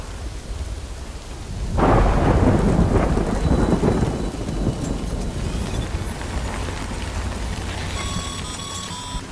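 Thunderstorm in the video game Death Stranding: steady rain pattering on surfaces with wind, then a loud rolling thunder crash that swells and slowly fades back into the downpour.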